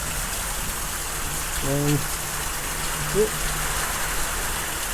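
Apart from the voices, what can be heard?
small hail and rain falling in a passing thunderstorm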